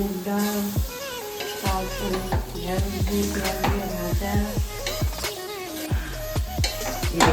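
Meat is being stirred and sautéed in a pan for a Bengali feast, with repeated scraping and clattering strokes over a steady sizzle, close and fairly loud, mixed with background music or voices.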